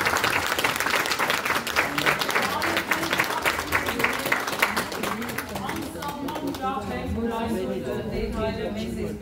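Warm, sustained audience applause at a memorial evening in an arts union hall, many hands clapping steadily before fading as a voice begins speaking.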